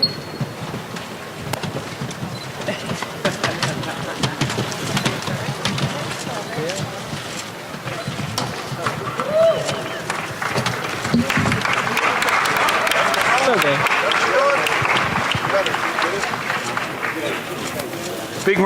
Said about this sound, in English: Big round of applause for two classic gentlemen.